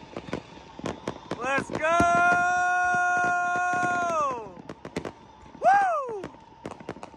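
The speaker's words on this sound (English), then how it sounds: "I feel every last one of these fireworks popping off right now." Fireworks popping off on New Year's Eve at the Glamis dunes: sharp crackling pops throughout, with a long rising-and-falling whistle and a shorter second whistle, while people shout and cheer over them.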